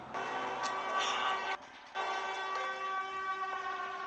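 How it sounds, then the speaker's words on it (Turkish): A Siren Head siren from an animation, a loud sustained tonal wail with bell-like harmonics that cuts out briefly partway and then resumes steadily. "That's the siren that sound."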